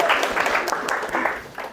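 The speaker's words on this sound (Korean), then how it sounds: "박수!" Audience applause at a talk on living a happy life, a short burst of clapping from a small crowd that swells and then tapers, with a faint voice underneath.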